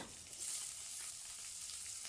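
Soft, steady sizzling of chopped onions frying in hot oil, faint and continuous with a light crackle.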